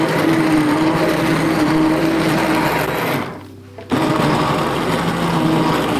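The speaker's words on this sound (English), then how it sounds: "If there is only one tool I could recommend to have, it would be this handheld mixer" A handheld immersion blender purees cooked asparagus soup with a loud, steady, close motor whine. The whine cuts out briefly partway through, then resumes at full strength.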